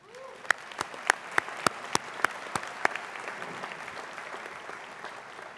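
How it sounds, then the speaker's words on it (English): A burst of applause from graduates at a university winter commencement, sharp, distinct claps at first, settling into a steady wash of clapping from a crowd, moderately loud. "So please, give yourselves a round of applause."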